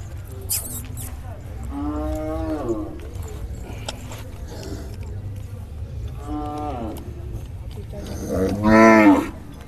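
A calf at a Sinnar cattle and bull market gives three loud, drawn-out moos, the last one the strongest, while a crowd murmurs and people talk in the background.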